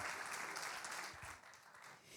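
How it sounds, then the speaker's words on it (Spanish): A church congregation applauds during a worship service: a soft, distant, continuous patter of many hands clapping at once, faint and even, fading slightly toward the end. "Denle un aplauso al Señor"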